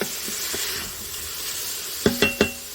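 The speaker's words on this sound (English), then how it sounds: "About a teaspoon and a half of garlic. Let's get that mixed up." A utensil stirs garlic into sizzling food in a pan, with soft scraping strokes over a constant fry hiss, ending in three sharp metallic clinks against the pan.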